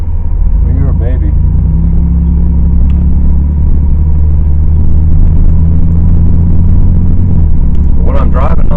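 A car drives along a road built over a filled-in quarry, a low, steady engine and road rumble heard from inside the cabin, with a voice briefly speaking over it at the start and end.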